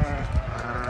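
Sheep bleating at a livestock market, a short close bleat under a faint background of crowd murmur.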